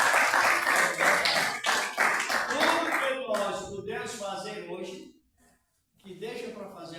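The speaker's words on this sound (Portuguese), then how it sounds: "agradecer que eu vou receber essa opção com as palmas bem fortes para o Senhor" A church congregation claps hands loudly during a teaching service, mixed with a voice and music, before a short near-silent gap and a resumption of sound.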